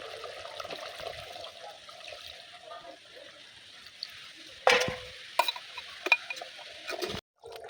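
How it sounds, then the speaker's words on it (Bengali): Water is poured into a handi of cooking chicken and potatoes, giving a sudden loud hiss and splash midway over a quieter simmer, followed by a few sharp utensil knocks before cutting off. "আমি একটু অল্প পরিমাণে জল দেব"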